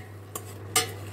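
Onions, coriander and meat sauté in a pot for Algerian chorba frik: two quick utensil scrapes over a faint low hum, close and brief.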